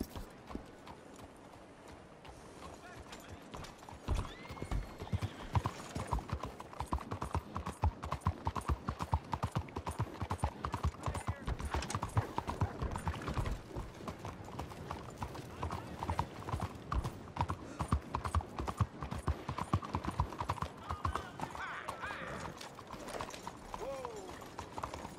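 A horse gallops in the western video game Red Dead Redemption 2, its rapid, steady hoofbeats pounding nonstop for over twenty seconds after a brief quieter opening.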